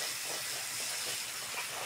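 Ginger garlic paste sizzles in hot oil for khichuri, a faint steady hiss that keeps on without a break through the short moment.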